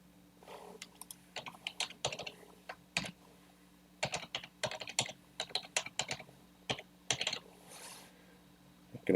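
Computer keyboard typing while an email address is entered, quiet and close, in irregular bursts of key clicks with short pauses between, no talk.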